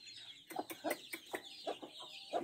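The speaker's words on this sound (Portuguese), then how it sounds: "Achou bonito os pintinhos comendo." Baby chicks peck at feed and give a string of soft, high clucks and cheeps, close by and fairly quiet, with no talking.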